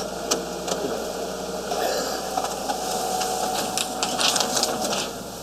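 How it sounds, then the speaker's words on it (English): A printer runs steadily with a whirring, rattling mechanical drone and intermittent clicks and feed sounds, continuing without speech for about five seconds. "As soon as you hear the printer."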